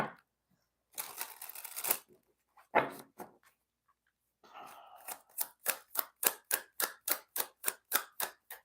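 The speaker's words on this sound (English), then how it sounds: "One more shuffle, please." A deck of tarot cards is shuffled and handled during a reading, with a couple of brief rustling bursts followed by a run of crisp, evenly spaced snapping clicks, quiet and close with silent gaps.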